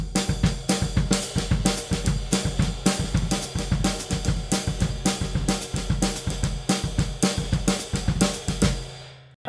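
A jazz samba rhythm is played at a quick tempo with accents on every other note, a dense steady stream of sharp percussive hits pulsing evenly, alone without talk, ending with a brief decay.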